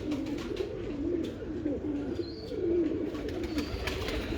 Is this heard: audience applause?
no